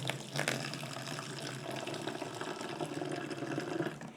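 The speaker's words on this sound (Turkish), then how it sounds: "Su koyuyoruz." Water poured for a homemade iced coffee made with three coffee packets, a steady continuous splashing stream that runs close and fairly loud throughout, with no voices.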